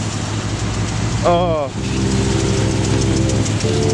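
Engine of a 1972 GMC dump truck with a broken exhaust running steadily at idle, a loud low rumble throughout, broken briefly by a short spoken exclamation near the start.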